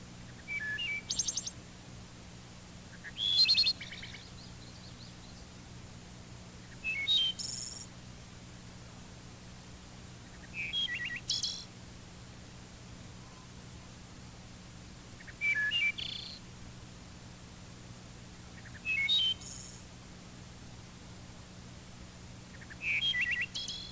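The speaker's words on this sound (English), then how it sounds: "Here's the wood thrush again." A wood thrush repeats a fluting, flute-like phrase about every four seconds, each ending in a thin trill, clear against a quiet background hum.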